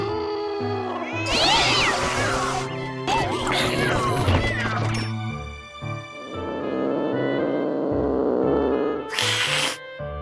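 Cat meowing in a Plants vs Zombies parody, several loud close meows and caterwauls mixed with crashes and thwacks, with a voice speaking at points.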